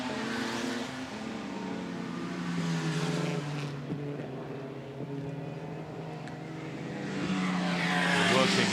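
Historic race cars at the Goodwood Trophy race roar past on track, engine notes rising and falling as they sweep through a corner and onto the straight, with a louder pass near the end.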